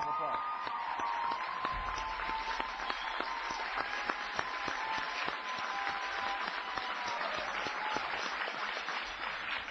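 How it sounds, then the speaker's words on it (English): A large crowd applauds steadily at a Violence Against Women Act signing ceremony, with dense clapping that swells and holds for several seconds, fairly distant and even in loudness. "Give Tom a big round of applause."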